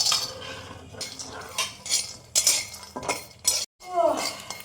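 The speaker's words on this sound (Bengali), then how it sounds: "বাদাম নিয়েছি, একটু ভেজে নেব।" Peanuts being dry-roasted and stirred in a pan, a run of irregular metallic scrapes and clinks from the spatula against the pan, with brief pauses between strokes.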